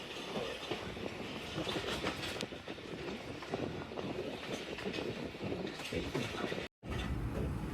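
The Bhully Shah Passenger train runs on rails from Pakpattan to Lahore in Pakistan, heard from onboard as a steady rumble with rhythmic clickety-clack of wheels, nearby and continuous, with a brief dropout near the end.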